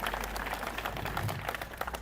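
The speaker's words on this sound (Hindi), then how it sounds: "सर के लिए तालियां बजाएं" An audience at a college keynote address breaks into a short burst of steady, dense clapping, moderately loud and continuous, with no speech on top.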